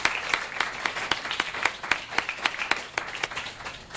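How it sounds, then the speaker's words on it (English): Audience applause at a graduate school of public health graduation ceremony, a moderately distant crowd of clapping hands with a few sharp individual claps standing out, steady and alone without talk. "So I just wanted to give a big round of applause to our advisor"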